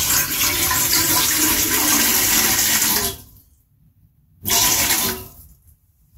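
Water pours loudly and steadily into a container on a scale, stops abruptly, then gushes again in a second short pour before cutting off.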